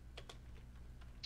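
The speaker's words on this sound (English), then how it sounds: "I see what you're typing there, Mike." Sparse computer keyboard typing, a handful of light, close clicks spaced irregularly across a quiet background with no voices.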